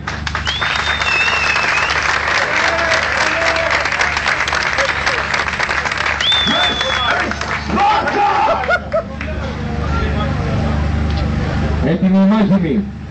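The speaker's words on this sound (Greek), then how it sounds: "Δώστε τους ένα χειροκρότημα." Crowd at a drag race event in Oropos applauds and cheers loudly, a dense burst of clapping and voices with an announcer speaking over it and some engine noise late on.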